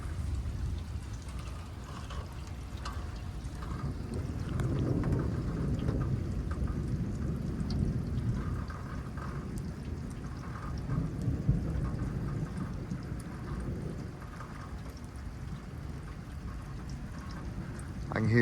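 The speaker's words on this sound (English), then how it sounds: "It is just a non-stop rolling thunder." Deep thunder rumbles continuously during a tornado-producing storm, rolling and swelling over steady pouring rain, with no clear voices.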